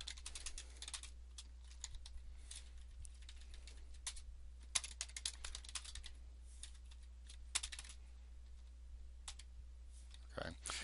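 Keyboard typing of SQL queries into a query editor on a computer, a steady run of soft clicking keystrokes with brief pauses and bursts, fairly close and quiet over a low steady hum.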